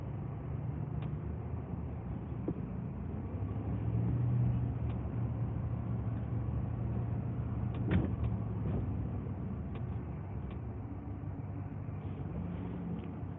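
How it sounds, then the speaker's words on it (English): Steady road traffic heard from inside a moving vehicle on a highway, a low continuous rumble with faint passing swells and a few soft clicks, no talking. "So this is going to be like California out here in traffic."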